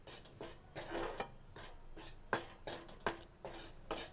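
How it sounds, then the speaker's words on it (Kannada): A spatula scrapes wheat flour around a hot kadai as it roasts on low heat, in quiet, rhythmic rasping strokes, close by, with no talking. "ಇದನ್ನು ಸಣ್ಣ ಉರಿಯಲ್ಲಿ ಹುರ್ಕೋಬೇಕು."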